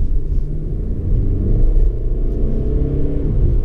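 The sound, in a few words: Mercedes C 220d diesel engine in sport mode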